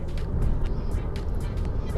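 Heavy trucks and other traffic rumble past on an Indonesian toll road, a steady low roar of engines and tyres with brief whooshes as vehicles go by, close and continuous for the whole stretch.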